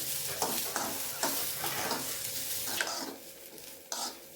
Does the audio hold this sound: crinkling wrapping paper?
no